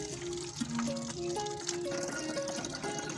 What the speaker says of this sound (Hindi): बोतल के अंदर पानी भरना शुरू हो गया है